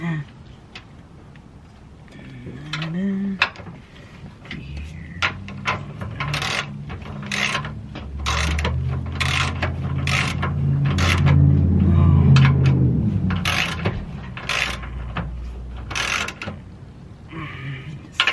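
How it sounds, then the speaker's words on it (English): A ratchet cranks a bolt slowly into a drift angle kit on a BMW E46, giving a string of quick, short rasping clicks that grow denser midway, with low mechanical rumble and faint background sound underneath. "And crank it in there slowly."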